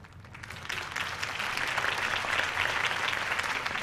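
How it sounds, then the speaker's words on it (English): Crowd applause in the Batman Telltale video game, a dense, steady clapping from a large audience at a campaign rally for Harvey Dent, building quickly and holding at full strength throughout. "If only Mr. Wayne, my campaign's largest backer, could have heard that applause"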